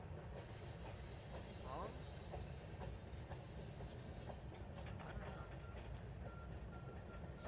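An empty blade freight train on a CP line climbs a 2% grade, a continuous low rumble with rail noise and faint clatter at moderate distance, while a person speaks briefly.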